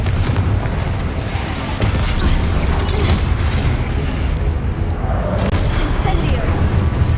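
A Confringo spell is cast in the Hogwarts Legacy video game during a spell trial. Heavy, booming blasts and rumbling impacts roll on continuously, loud and dense, with mechanical clatter layered through the low end.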